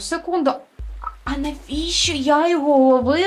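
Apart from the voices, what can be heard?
No everyday noises stand out.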